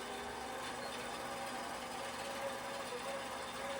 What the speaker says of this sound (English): I let it run out. And it does a double stitch, a locking stitch, when it starts up again.